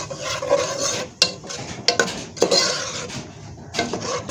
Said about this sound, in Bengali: মশলাটা দিয়ে আমরা একটু নেড়ে দিব